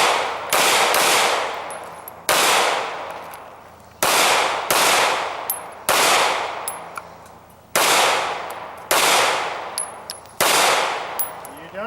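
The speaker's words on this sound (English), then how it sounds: "Steve's been shooting a Smith & Wesson M&P 9mm" A Smith & Wesson M&P 9mm pistol fires eight sharp, loud shots outdoors, spaced about one to two seconds apart in small groups, each crack followed by a short fading echo and some faint metallic pings.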